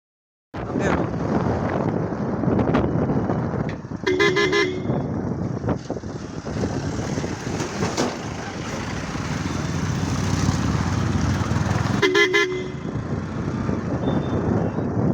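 Vehicle horn honking near a village road, two short bursts of beeps several seconds apart over continuous wind noise and engine rumble.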